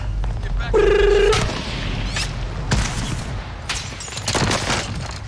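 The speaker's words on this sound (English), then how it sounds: "Taking shots over here." Gunfire and booms from the battle royale game Call of Duty Warzone, with loud repeated shots and bursts of explosive fire at close range, a brief tonal game alert, and heavy mixed noise throughout.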